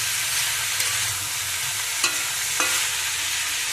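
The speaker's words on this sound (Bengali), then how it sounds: "এবারে কিন্তু ভালোভাবে কষিয়ে নিতে হবে" Vegetables for a vegetarian shukto sauté in hot oil, a dense steady sizzle close by with occasional sharp scrapes of a spatula against the pan.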